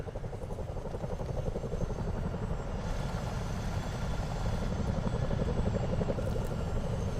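A Chinook twin-rotor helicopter in Microsoft Flight Simulator 2024, set in New Zealand, gives a steady, close, continuous low rotor throb and engine drone that grows slightly louder partway through, with no talking.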